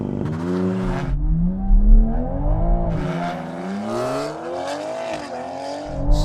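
Toyota Supra mk5 engine held on the brake for a launch-control start, revving up and down in rising and falling pitch sweeps, close and loud, with a brief lull before climbing again.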